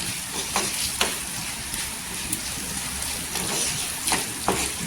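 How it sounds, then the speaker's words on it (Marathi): Spicy green chili bhaji sizzling in hot oil in a pan, a steady, close frying crackle with a few sharper pops and stirring clinks scattered through it. "इथे खाली तेलावर परतायचं"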